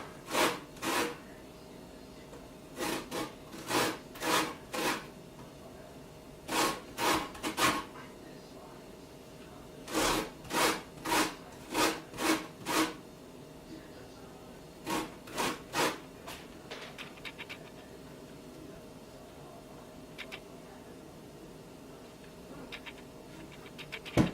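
A lemon rubbed against a grater to remove its zest, heard as several bursts of quick, rhythmic rasping strokes separated by short pauses, close and moderately loud.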